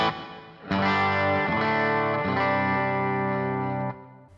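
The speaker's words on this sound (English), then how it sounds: "I can switch my reverb on." Sustained distorted electric guitar chords through a Boss Katana amp with reverb switched on ring out with a washy, effected tail, a few strums changing the chord before fading.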